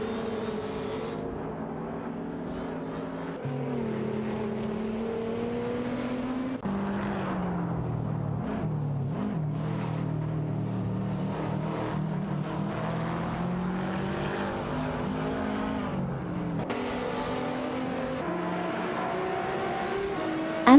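Race cars from an AI racing game, including an Infiniti Q50 Eau Rouge and a Dodge Viper 8 CR8, drone steadily with engine tones rising and falling through gear changes, continuous and fairly loud with no talk.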